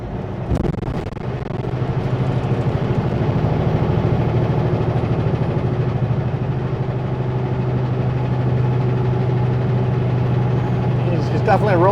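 A rough-running truck engine idles and rumbles steadily with a deep low drone and a faint whine, heard from inside the cab, with a brief knock near the start and a short voice at the end.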